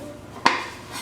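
A kitchen pan clanks once as it is picked up and set down, a single sharp metallic knock with a short ring after.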